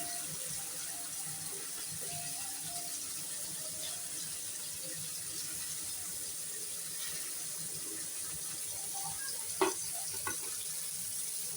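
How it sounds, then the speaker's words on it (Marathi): Chicken marinated in red chilli, salt, turmeric and chicken masala fries on a tawa pan, giving a soft, steady sizzle throughout, with a couple of brief clinks near the end. "तर हे पण आपण याला आता तव्यामध्ये फ्राय करून घेऊया."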